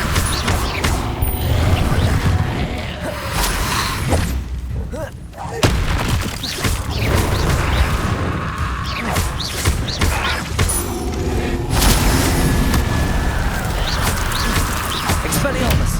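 Confringo fire spell blasts in Hogwarts Legacy combat, repeated bursts cast amid Expelliarmus and other spells, loud and dense over a busy mix of clashing effects, with a voice calling out spell names throughout.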